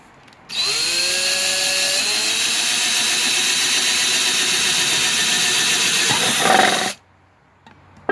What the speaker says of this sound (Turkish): Matkapla geliyoruz.